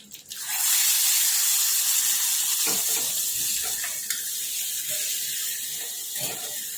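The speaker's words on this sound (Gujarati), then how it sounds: "આપણો વઘાર તૈયાર થઈ ગયો છે હવે કઢીમાં એડ કરી દઈશું" Hot spiced oil tempering with asafoetida poured into kadhi, a loud steady sizzle and hiss that bursts in and continues alone for several seconds, with faint clinks of a pan or spoon.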